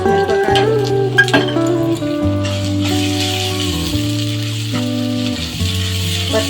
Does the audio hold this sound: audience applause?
no